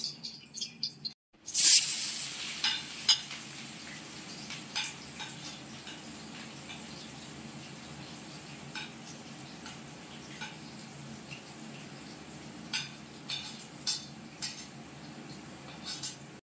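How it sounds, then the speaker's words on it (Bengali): Onion and green chilli sizzling in hot white oil in a pan for a pasta dish, a steady soft crackle with scattered sharp pops and an occasional stir, close and continuous with no talking. "প্রথমে পেঁয়াজ আর লঙ্কাটাকে ভেজে নেওয়া হচ্ছে"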